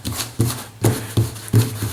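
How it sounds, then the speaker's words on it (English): A deck of game cards is shuffled by hand in quick, crisp riffling bursts, about five close strokes in a steady rhythm. "We're going to shuffle these"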